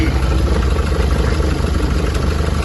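A 2013 Chevrolet Colorado 2.5 LT pickup truck engine idles steadily up close, a continuous low rumble with a constant mechanical hum and no voices.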